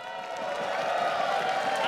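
A large arena crowd at a League of Legends All Stars esports event applauds and cheers in a steady, faint roar that holds for about two seconds, with speech faintly under it.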